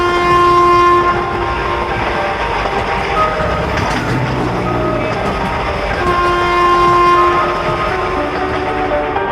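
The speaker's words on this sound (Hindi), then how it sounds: "तभी ट्रेन शुरू हो जाती है।" A train pulling away with a sustained horn blast, loud and close, horn tones sounding at the start and again later over a constant rolling rumble and clatter of the wagons.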